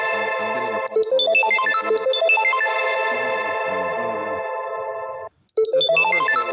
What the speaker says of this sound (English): So I'm getting a phone call.